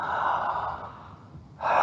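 A slow audible exhale during a breathwork exercise, a soft breathy whoosh that fades over about a second before a fresh breath starts, close and alone with no talk.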